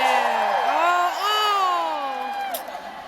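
A group of women whoop, cheer and shout encouragement for Megan as she plays a timed minute-to-win-it party game, several voices rising and falling together loud and close for a few seconds.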